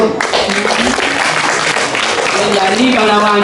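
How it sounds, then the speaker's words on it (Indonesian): Audience applause at a Balinese Drama Gong theatre performance, a steady wash of clapping from a crowd that fills the whole stretch at even loudness, with a voice faintly audible underneath. "Tepuk tangannya dulu."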